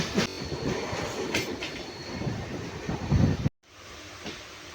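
A MEMU passenger train rolls along the tracks near Azimganj, heard from on board as a rumbling, rattling clatter with rhythmic wheel knocks. It cuts to near silence, and a quieter rumble follows.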